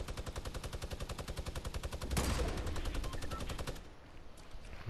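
A light machine gun fires rapid, continuous bursts in Fortnite. A louder blast or explosion lands midway, and the fire trails off near the end.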